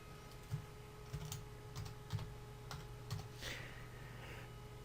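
Sparse, light clicks of typing on a computer keyboard, about a handful of distinct keystrokes at uneven intervals, quiet and close against a faint steady electrical hum.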